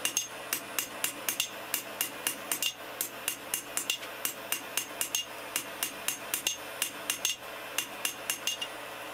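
A hammer repeatedly strikes a metal rasp to thin it on a hard surface, giving sharp ringing metallic blows in a quick steady rhythm with brief pauses, close and clear.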